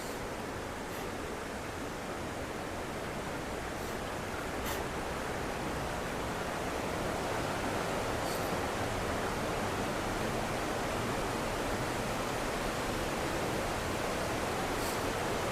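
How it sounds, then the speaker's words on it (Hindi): Falling water at the waterfall in Furong Town, China, makes a steady broadband rushing hiss, moderately distant and unbroken, with no voices over it. "आपको पानी की आवाज़ आ रही होगी।"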